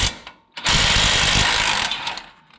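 An impact wrench removes caliper bracket bolts on a 2004-2015 Nissan Titan front hub, firing one dense, loud, rattling burst of over a second after a brief short spurt.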